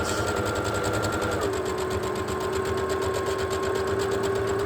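A sewing machine stitching a seam allowance on a fabric face mask, a fast, steady mechanical whirring chatter running continuously up close, with a pitch shift partway through as it reverses to secure the stitch.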